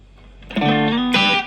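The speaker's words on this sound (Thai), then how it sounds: "อันนี้ก็จะเป็นเสียงคลีนที่เราตั้งไว้ตอนแรกอยู่แล้วครับ" A clean electric guitar chord played through a Cuvave Baby mini multi-effects unit rings out with a shimmering, chorus-like effect and light reverb, followed by a second strummed chord.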